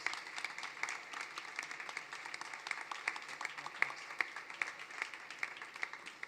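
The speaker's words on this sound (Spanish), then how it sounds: "Os pediría un enorme aplauso para nuestro panel de expertos" Applause at a South Summit 2019 workshop, thanking a panel of experts: steady, moderately loud clapping from a seated audience, continuous for several seconds with scattered sharper claps standing out.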